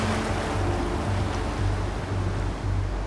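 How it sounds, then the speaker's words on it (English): Wind-driven ocean waves surge and wash along the shore in a steady, rolling roar, with wind buffeting throughout and no voices. "ordinary waves like these are created by the wind"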